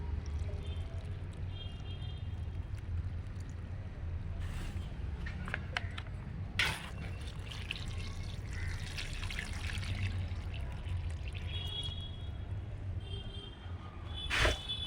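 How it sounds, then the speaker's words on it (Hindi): Water is poured slowly from a container into soil-filled grow bags holding repotted tomato plants outdoors, a steady soft trickle and dribble running throughout, with a few brief clinks and knocks along the way. "बहुत आहिस्ते आहिस्ते से पानी डाल रहे हैं"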